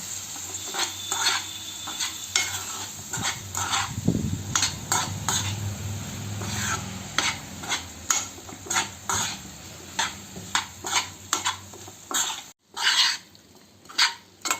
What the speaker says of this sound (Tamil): இப்போ இதை வந்து நல்லா கிளறி விடுவோம்.